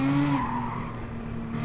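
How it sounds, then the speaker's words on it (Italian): Race cars in Gran Turismo Sport sweep past with a brief tire squeal and a steady engine drone that lingers, fairly loud and with no voices over it. "Grazie macchine, che adesso mi avete tutte superate"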